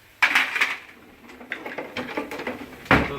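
A spoon scrapes and clanks through gumbo vegetables and roux in a pot, with several close knocking strikes and rough stirring scrapes spaced irregularly.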